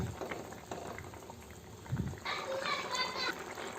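Garlic tamarind curry bubbling as it simmers and reduces in a pot, a steady soft boiling texture that grows denser and brighter partway through, with faint background voices.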